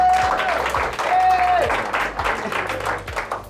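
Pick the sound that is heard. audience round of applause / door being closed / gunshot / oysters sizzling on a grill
audience round of applause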